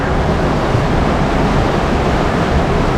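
A river in Sarajevo running high after heavy rain past a riverside hotel terrace, heard as a dense, steady roar of rushing water, loud and unbroken throughout, with no voices.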